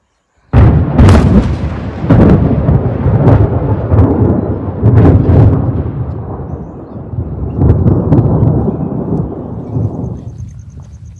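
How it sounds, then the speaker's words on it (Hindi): Loud, close thunder during light rain cracks and rolls in a series of heavy bursts, then fades into a long, low rumble, with no voices. "बादल गरज रहे हैं"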